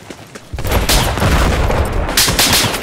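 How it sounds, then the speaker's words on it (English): Gunfire in a Battlefield 4 match at Guilin Peaks: after a quiet start, a loud, dense fusillade of rapid shots and bursts fills the rest, with sharper cracks near the end. "Someone's shooting at us."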